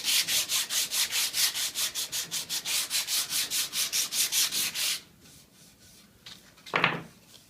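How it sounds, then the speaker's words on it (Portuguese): Steady rhythmic back-and-forth rubbing of 120 grit sandpaper wrapped on a small wooden block against wood, about two dozen close strokes, then a pause and one last scrape. "com um taquinho de madeira e uma lixa 120 para madeira, a gente vai lixar e tirar essa parte áspera"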